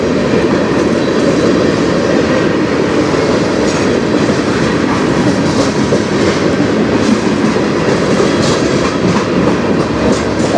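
A CN freight train rolls past on the Strathroy Subdivision, a loud, steady roar of wheels and cars with clickety-clack and faint wheel squeal running through the whole stretch.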